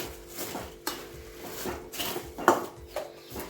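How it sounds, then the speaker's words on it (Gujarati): Puffed rice (mamra) is stirred into a pan of jaggery syrup for ladoos, with soft scraping and rustling broken by a few sharp clinks of a spoon on the pan, close and fairly quiet, without talking. "હવે આપણે આમાં મમરા નાખી દઈશું સરસ રીતે મિક્સ કરી દેવાના છે મમરાને"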